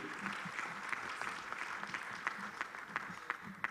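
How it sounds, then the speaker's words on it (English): A crowd applauds, steady clapping from a fair distance, moderately faint and sustained throughout. "Round of applause for him, please."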